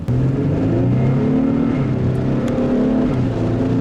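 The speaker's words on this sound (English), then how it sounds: "The V6 makes some pretty nice noises." A 2013 Infiniti G37x V6 engine revs up close, its pitch rising steadily as it accelerates with a smooth, throaty drone.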